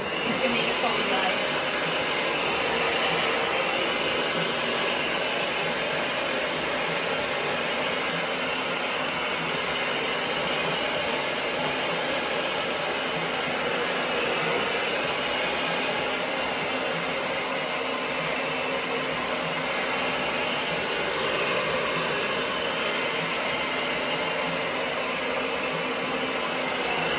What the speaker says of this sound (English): I'm just gonna blow dry it a little bit to make it fully dry.